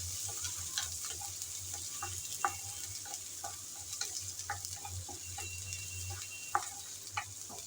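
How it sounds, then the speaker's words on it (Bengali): Chopped onion fries in oil left over from frying prawns and papaya, a soft, steady sizzle with scattered ticking pops and light stirring clicks over a low hum, heard close and fairly quiet. "এখন চিংড়ি আর পেঁপে ভাজার তেলে দিয়ে দিলাম পেঁয়াজ কুচি"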